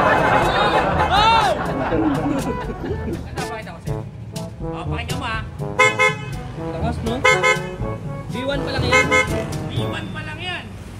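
Someone mimics a honking horn with their voice, in repeated toots over street bustle and chatter, with several people talking nearby.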